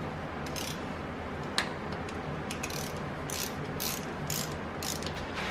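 A hand ratchet tightening valve cover bolts on a 1999 Mazda Miata, with quiet, rapid clicking in short bursts over a faint steady background hum.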